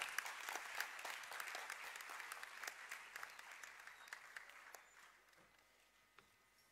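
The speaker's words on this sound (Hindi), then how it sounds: "हमारे मुख्यमंत्री जी के लिए जोरदार तालियों से उनका स्वागत किया जाए" A hall full of people claps loudly to welcome a chief minister at a university convocation ceremony, a dense, sustained wave of applause that gradually thins and fades toward the end.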